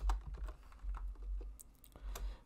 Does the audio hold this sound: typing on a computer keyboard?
yes